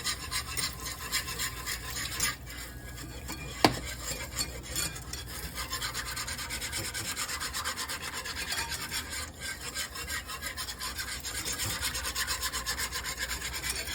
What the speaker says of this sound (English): But I'm going to whisk this until it starts to thicken.